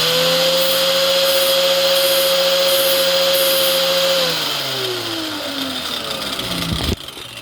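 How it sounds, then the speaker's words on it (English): A small grinder is trimming the gap of a piston ring for a 1985 Ford Bronco II with the 2.8L engine. The motor whines steadily and loudly, then its pitch drops as it spins down and ends with a sharp knock. "I turn on the grinder."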